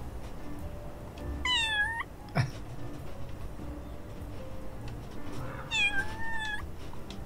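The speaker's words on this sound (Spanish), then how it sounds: "puedo hacer miau" A cat meows twice in the Little Kitty, Big City video game, each a clear rising-falling call set apart by a few seconds over a quiet ambient game backdrop, with a brief thump in between.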